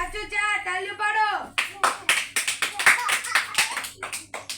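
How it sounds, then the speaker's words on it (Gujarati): Children in a classroom break into a burst of quick, uneven clapping right after an adult voice speaks, the claps close and lively for several seconds. "તાળી પાડો."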